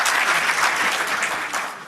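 Applause fills a theatre during a stage comedy, dense clapping from many audience members, loud and continuous before easing slightly toward the end, no voices standing out.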